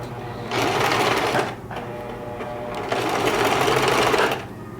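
A sewing machine stitches fabric in two sustained runs of rapid, even needle chatter, close and loud, with a short pause between them.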